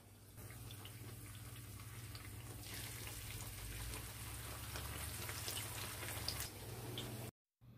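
Quesadilla dough frying in hot oil gives a steady, crackling sizzle that swells midway and runs for several seconds before cutting out abruptly near the end.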